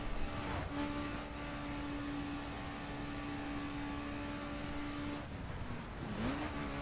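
Sports car engine in The Crew racing game holding high revs, a steady, loud droning whine that dips briefly as it shifts, then climbs again, with no talk over it.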